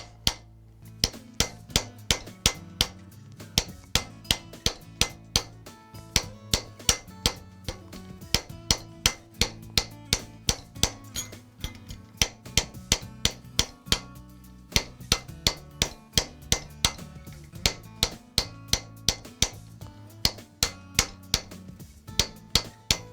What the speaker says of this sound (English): The final row that we're going to hammer is the middle